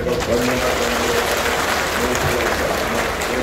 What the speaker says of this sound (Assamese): এটা উষ্ণ আদৰণি হাত চাপৰিৰে তেখেতক ধন্যবাদ